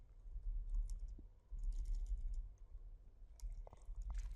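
Typing on a computer keyboard in a text editor, with soft irregular key clicks in short bursts over a low steady room hum, fairly quiet and close.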